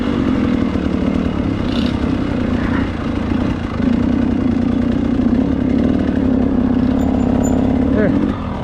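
Dirt bike engine on a forest trail, a steady close motor drone that rises and holds with slight revving throughout.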